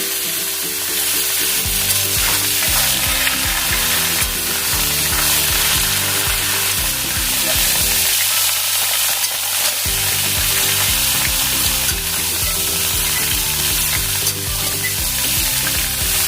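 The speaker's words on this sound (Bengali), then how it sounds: "তরকারিগুলো একটু ভাজা ভাজা করবো।" Vegetables sizzle loudly in a pan while being stirred, a continuous frying hiss with scraping movements throughout.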